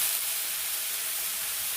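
Eggplant pieces dropped into a hot pan of sautéed onions give a steady, even sizzle and hiss at moderate level, continuous with no talk.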